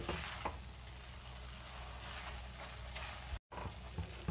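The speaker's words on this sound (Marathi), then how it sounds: "गॅसची फ्लेम मीडियमवर ठेवून मी मसाला चांगला परतून घेणार आहे" A thick masala paste with cashews and melon seeds sautés in a pan over medium flame, with a steady close sizzle and occasional spoon scrapes from constant stirring, with one brief dropout near the end.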